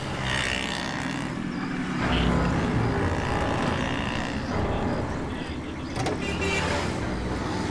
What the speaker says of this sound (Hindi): ये इतनी तेज कार कौन चला रहा है?